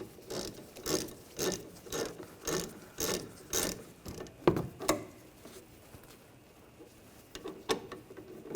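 A ratchet with a 14mm socket works a lower brake caliper bolt loose on the rear of a Nissan Rogue, about eight evenly spaced clicking strokes close up, then a few scattered metallic clicks and knocks.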